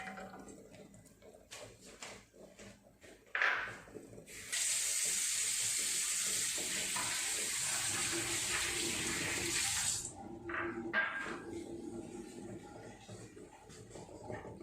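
Water is strained through a hand while making sambar, running steadily for several seconds, a loud hissing pour with some splashing, then stops, leaving quieter handling sounds and faint drips.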